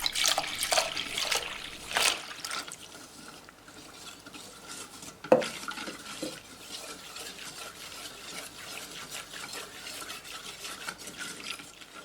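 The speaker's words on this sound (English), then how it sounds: "I will add now milk" Milk poured into a whisked custard mix for a caramel cake and then stirred, with liquid splashing and a whisk scraping against the bowl in an irregular close rhythm.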